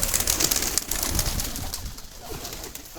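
Wild pigeons kept in a loft cooing, soft repeated low coos close by over steady background noise, with no talk.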